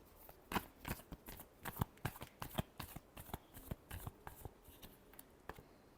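Tarot cards are shuffled in quick, soft bursts of riffling and tapping, close and quiet, in an uneven rhythm.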